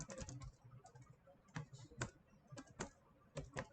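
Rapid keystrokes on a computer keyboard while writing Python code, a close, crisp run of uneven clicks and taps with brief pauses between bursts.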